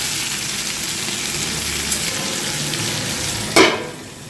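Steady, close sizzle of turmeric-spiced oil frying under a lid in a pan while bottle gourd leaves are being prepared, with a sharp clatter of the lid near the end before the hiss thins out.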